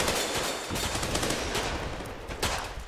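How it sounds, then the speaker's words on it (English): Rapid nail rifle fire in the game Running With Rifles, a dense stream of cracking shots running steadily through the whole stretch, with a few louder bursts near the end. "Nail rifle."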